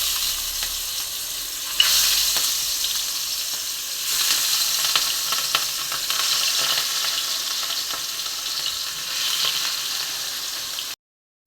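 Fish coated in spice paste fries in a pan, a steady bright sizzle running throughout, swelling with occasional stirring and spattering bursts, then cutting off abruptly with no talking.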